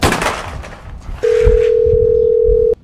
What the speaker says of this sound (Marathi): ए गाबड्या जर तू डायल कर चाल लाव फोन फोन लाव